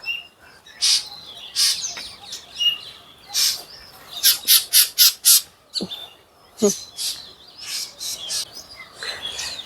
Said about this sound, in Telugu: చూసారా బర్డ్స్ ఎలాగా అరుస్తున్నాయా?